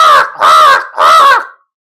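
A man imitating a crow, three loud harsh caws in a row, close and clear, each about half a second long with short gaps, then silence.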